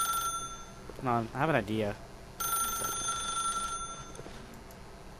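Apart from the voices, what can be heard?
telephone ringing in the video game The Stanley Parable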